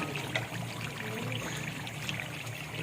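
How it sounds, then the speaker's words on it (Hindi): Leftover black pepper goes into a cooking chicken karahi with a soft, steady pouring rustle over a low simmering background, fairly quiet and without talk. "ये जो मैंने काली मिर्ची थोड़ी बचाई थी, ये अब डाल दूँगी"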